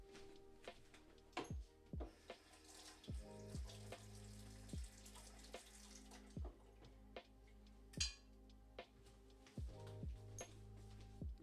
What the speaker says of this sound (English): I'm gonna rinse off the tablespoons